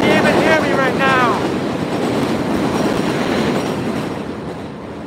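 A New York City subway train rumbles past with loud, continuous clattering wheels and a brief high squeal at the start, close and dominant on a street in Jackson Heights, Queens.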